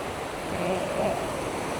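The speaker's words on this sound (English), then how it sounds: "Look at this beautiful flow of water just going across this bridge." Steady rushing of mountain water flowing beneath a bridge in the village of Imlil, Morocco, a continuous broadband wash heard alone at close range.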